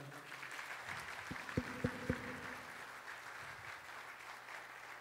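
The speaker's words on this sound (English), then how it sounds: "Let's give another round of applause." A church congregation applauds graduates at a Sunday service, with a brief, fairly quiet wash of clapping and a few sharper claps, heard alone.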